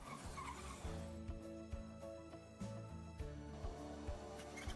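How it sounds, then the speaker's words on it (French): A rally car at a club rally final powers through a tight hairpin, its engine revving loudly and shifting with sharp throttle bursts and a squeal of tyres, close by and without any talk. "Bon, vous en voyez passer des voitures de rallye."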